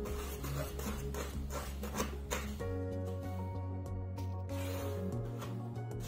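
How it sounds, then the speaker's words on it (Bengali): A spoon stirs flour, added bit by bit, into boiling water in a pan for pithas, making faint, rhythmic rubbing scrapes over a low steady hum. "অল্প অল্প করে ময়দা দিয়ে দিব আর নাড়তে থাকবো।"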